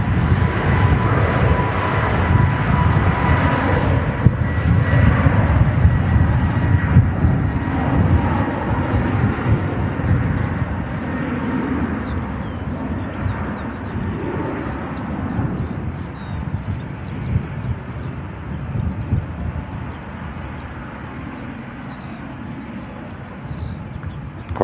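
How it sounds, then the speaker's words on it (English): A Jet2 Airbus A321 departs runway 23 left at Manchester Airport, its engines producing a sustained loud, rumbling roar that slowly fades as it climbs out into the distance. "Jet2, A321. Next aircraft to depart. 23 left."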